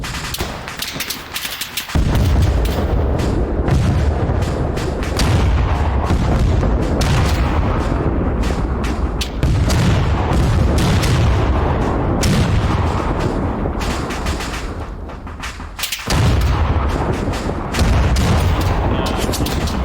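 Autocannon and small-arms gunfire rattle through a night infantry battle in the video game Arma 3, with dense, loud, continuous bursts and booming impacts that only briefly pause before resuming.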